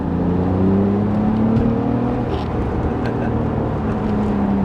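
A BMW Z3 engine revs and pulls hard under steady acceleration, a loud continuous drone rising in pitch with road and wind noise.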